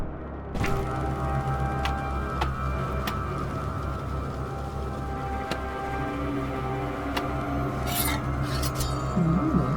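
A blade drawn across a whetstone in Tails of Iron 2, a steady rasping scrape that carries on continuously over a low droning game soundtrack, with faint clicks and a brighter metallic scrape near the end.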